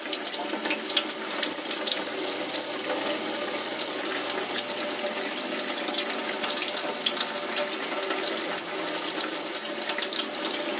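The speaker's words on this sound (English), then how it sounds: "it's like like there's little showers in the sink when we're cleaning the tank out" Water pours steadily from a tap into a sink while a snail tank is cleaned out, a constant close splashing rush with no pauses.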